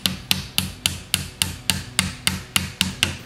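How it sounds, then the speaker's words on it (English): A hammer handle taps a connecting rod into a Wisconsin engine during a rebuild: about a dozen sharp, evenly spaced knocks, close and loud, in a steady rhythm with no talk. "now I'm gonna take the handle of a hammer and we're gonna tap that in"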